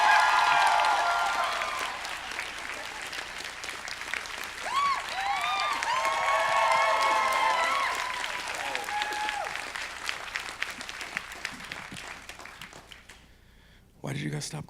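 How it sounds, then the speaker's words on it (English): Audience at a convention Q&A applauds and cheers as a guest walks out, a loud sustained burst of clapping and whoops that gradually fades out before a voice cuts in at the end. "Why did you guys stop clapping?"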